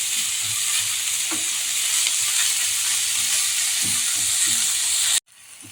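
Onions and spices for a raw banana and egg poriyal sauté in a pan with a loud, steady sizzle, broken by soft scrapes of stirring, until the sound cuts off suddenly near the end.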